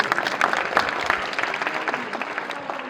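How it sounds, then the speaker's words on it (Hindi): An audience at a Republic Day college function applauds loudly, a dense burst of clapping that carries through and gradually thins out toward the end. "एक बार जोरदार ताली हो जाए आपकी तरफ से।"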